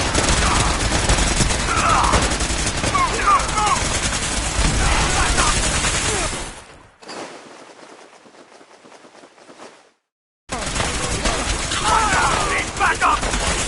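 Rapid bursts of gunfire in Fallout 4, with mods, crack loudly and densely, cut off by a muffled, quieter stretch and a brief silence before the heavy shooting resumes.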